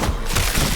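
Rapid gunfire from a multiplayer shooter video game, a dense, continuous crackle of overlapping shots at steady loudness with no talk over it.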